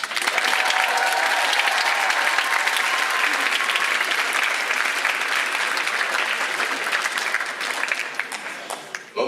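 A live audience at a rap event, a speech competition final in Limoges, applauds and cheers for a rapper: dense, continuous clapping and crowd noise fills the whole stretch at full loudness, tapering slightly near the end.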